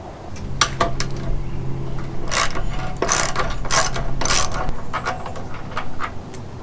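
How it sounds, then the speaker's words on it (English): Ratchet loosening the rear gas tank bolt on a Yamaha RX50 motorcycle, with a series of close, sharp clicking bursts in uneven rhythm over light metallic handling. "you loosen up the back gas tank bolt"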